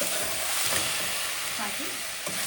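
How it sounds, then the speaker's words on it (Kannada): Cleaned clams (marwai) for a Mangalorean-style sukka, frying in a hot pan, give a steady close crackling sizzle with light stirring scrapes throughout. "ಇವಾಗ ಮೊರವಾಯನ್ನು ಹಾಕ್ಕೊಳ್ತಾ ಇದ್ದೇನೆ."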